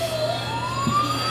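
A toy ambulance siren sounds loud and near, with a brief rising wail over a constant hum.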